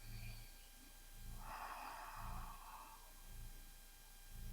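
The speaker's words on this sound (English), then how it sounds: "Breathing in and out through the nose to make that ocean sound." Slow ujjayi yoga breathing drawn in and out through the nose with a soft throat constriction makes a steady, hushed ocean-like rush that swells midway, close and quiet, with no talking.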